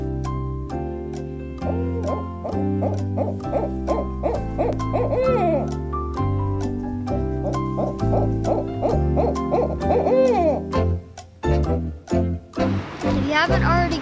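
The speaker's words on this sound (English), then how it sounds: "this highly vocal animal is the barred owl" A barred owl gives a long run of loud, rhythmic hooting calls in rising and falling phrases, closely spaced and prominent, with the series breaking into harsher cackling notes at the end.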